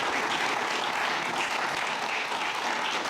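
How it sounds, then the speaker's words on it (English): Sustained audience applause fills a university philosophy society Q&A hall, a dense steady wash of many hands clapping at even volume with no voices above it. "just going to give a quick round of applause for that section"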